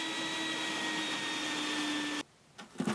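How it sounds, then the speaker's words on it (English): Wet vac sucking the remaining water out of a toilet tank during a fill valve replacement, a loud steady motor whine with a tonal hum that cuts off abruptly near the end, followed by a few faint knocks. "Vacuum the remaining water with a wet vac or use a towel or sponge."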